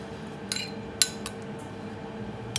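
Faint clinks of a spoon against a plate as a brown shrimp dressing is spooned around a smoked haddock starter, a few sparse light taps over quiet room tone.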